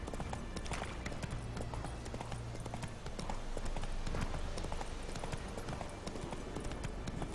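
Horse hooves clip-clopping at a steady trot in The Witcher 3: Wild Hunt, a dense rhythmic stream of hoof beats that is clear and continuous throughout, with no talking.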